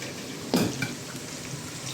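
Washed chicken leg pieces, part of a 15 kg batch for Arabic chicken madhbi, drop into a hot pot with a loud burst of sizzle. A steady frying hiss follows, with light stirring scrapes. Nobody speaks.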